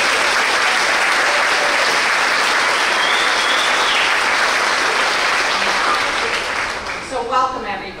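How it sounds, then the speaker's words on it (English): An audience at a community scholarship award celebration gives sustained, full applause that holds steady and then tapers as a voice begins to speak. "please a round of applause for Mrs."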